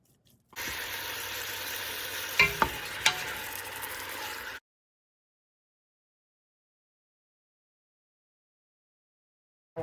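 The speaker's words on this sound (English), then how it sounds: "I'm heating up the skillet, brown the meat, add the onions, and then everything else" Meat browns in avocado oil in a heated skillet with a loud, steady close-up sizzle. A couple of sharp utensil clanks come midway, then the frying cuts off into silence.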